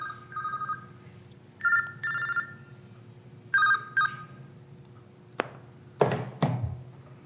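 A mobile phone rings during a sewer commission meeting in repeated short electronic bursts, followed by a few thuds and taps as it is handled, fairly near and alone with no talk.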